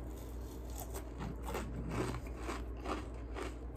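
Someone eats dry breakfast cereal without milk, producing close, steady crunching bites and chewing.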